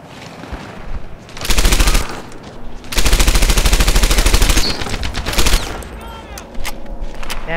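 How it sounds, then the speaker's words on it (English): Rapid automatic gunfire from the World War II shooter Medal of Honor Airborne, heard as loud, close, sustained bursts: a short volley, a brief pause, then a longer unbroken stream of shots. "this gun actually shoots pretty fast, guys"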